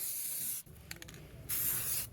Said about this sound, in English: I tried to use a smooth sweeping motion as I was spraying the paint to apply it.